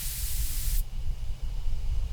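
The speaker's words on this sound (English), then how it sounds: "I take careful aim and spray the drug." A sprayer puffs a drug onto a beehive in the game Spirit Hunter: Death Mark, a single steady hiss lasting under a second, followed by a low quiet rumble.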